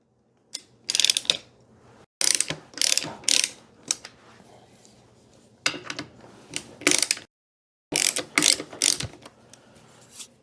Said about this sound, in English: Loosen the upper triple clamp bolts.